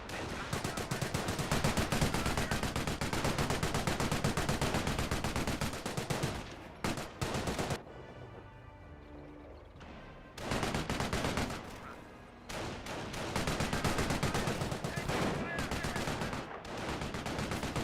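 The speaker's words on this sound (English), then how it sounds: "MMG carrier engaging the Panzer Grenadier at close range." Rapid bursts of machine gun fire from an MMG carrier in the Company of Heroes video game, dense and loud in sustained rattling strings with a short lull in the middle.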